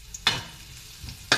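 Garlic frying in cooking oil in a pan, a soft continuous sizzle broken by two sharper scraping or popping strokes, close and alone with no talking.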